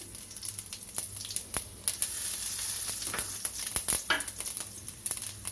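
Mustard seeds spluttering in hot oil as the first step of tomato rice: a constant close sizzle with rapid, irregular crackling pops scattered over it.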